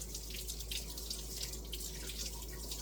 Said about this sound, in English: Wash off my spoon.